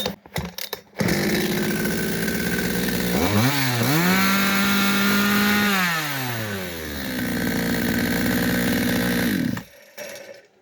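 A Kitprom petrol chainsaw engine runs close and loud after a sputtering start, idling, revving up and settling back down, then cutting off near the end.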